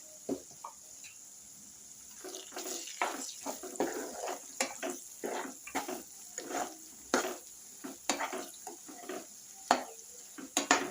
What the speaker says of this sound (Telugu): అలానే కొంచెం మెంతిపిండి, ఇదంతా కలిపేసుకుందాం